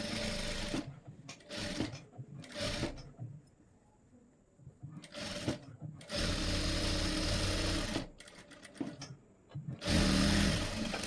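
A sewing machine runs in several loud bursts of rapid whirring, stitching blouse lining to main fabric, with pauses between runs where a voice talks.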